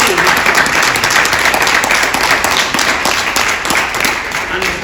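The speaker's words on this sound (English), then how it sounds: "A round of applause." A Comic-Con audience at a Hard Case Crime panel with Max Allan Collins breaks into loud, sustained applause, a dense wash of many hands clapping that holds steady and tapers slightly toward the end.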